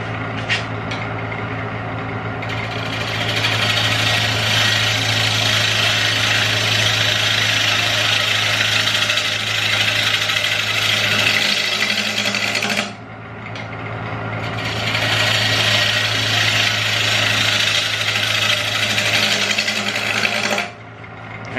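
A lathe turning a square wooden bowl as a gouge cuts shavings, giving a loud continuous droning whir with a steady motor hum beneath, broken by two short pauses where the tool lifts off the wood.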